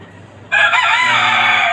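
A rooster on a rooftop chicken farm lets out one loud, close crow that starts abruptly after a moment of near silence and holds to the end.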